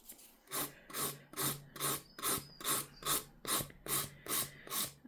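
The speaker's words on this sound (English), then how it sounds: "And then you're buffing over the whole nail." A 180 grit file buffs an acrylic nail in eleven steady, evenly spaced back-and-forth rasping strokes, close and soft, with no talking.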